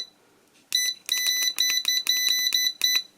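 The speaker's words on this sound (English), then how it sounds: "The beeping is also super annoying" An Eta Siesta breadmaker beeping, a series of loud, shrill electronic tones in quick bursts, about eight beeps in irregular rhythm after a quiet start.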